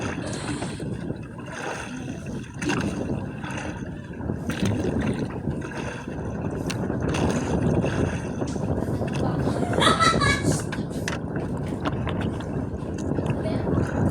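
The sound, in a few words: wind blowing at sea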